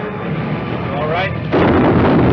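Mortar shells bursting in a 1955 war film, a loud, sudden rumbling blast hitting partway through after a stretch of noisy background, with a voice heard beforehand.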